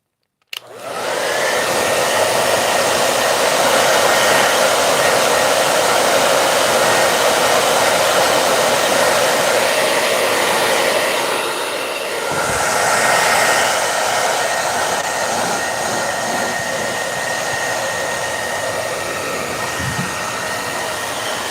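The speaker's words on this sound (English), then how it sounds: "So I'm going to be using a hair dryer right now." A hair dryer roars loudly and steadily while drying paint, a continuous blowing whoosh that starts abruptly and runs without a break.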